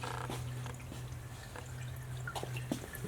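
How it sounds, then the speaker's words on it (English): Water drips from a sprinkler head with no head pressure during a Kerdi shower drain flood test, giving scattered, irregular drops over a steady low hum, fairly close and moderately quiet. "So this one has no head pressure at all. It's just got drips."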